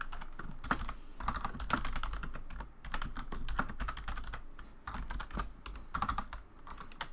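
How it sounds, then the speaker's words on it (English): A computer keyboard being mashed, with rapid, irregular bursts of clattering keystrokes close to the microphone, fairly quiet and continuous for several seconds with no voices. "Gonna mash my keyboard and then turn it into a word."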